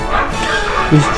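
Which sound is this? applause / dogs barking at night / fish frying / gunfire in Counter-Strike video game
dogs barking at night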